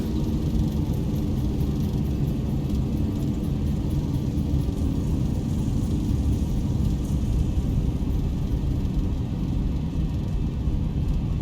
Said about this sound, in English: Speed brake is up and reversers are active.